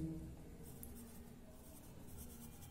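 Chalk or marker scratching on a board during a classroom lecture, faint continuous writing strokes over low room noise, without speech.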